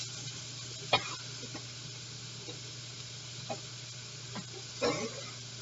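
Carne asada steak sizzles in a smoking pan with a steady hiss, broken by a few short scraping clatters as it is flipped and moved, close and without talking.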